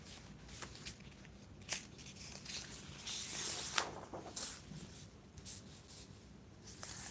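Paper is handled at a desk while solving linear equations, with soft rustles, light scrapes and small taps scattered irregularly, quiet and close, no talk.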